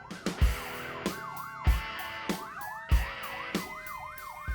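An ambulance or fire truck siren wails in a rapid up-and-down yelp, loud and close, while sharp heavy thumps and clatter repeat roughly every second around it.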